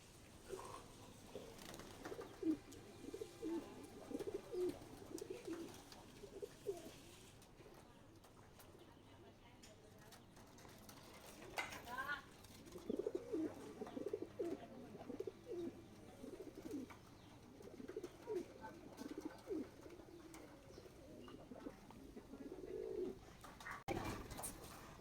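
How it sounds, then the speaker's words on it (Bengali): Domestic pigeons just released from their coop coo repeatedly in soft, rolling calls at moderate distance, with talking heard intermittently throughout. "তো এই যে কবুতরগুলো ছেড়ে দিলাম।"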